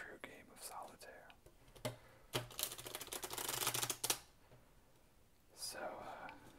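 Playing cards are shuffled for a game of solitaire, a dense papery riffle burst lasting about two seconds, close and soft, set among quiet whispering and light handling taps.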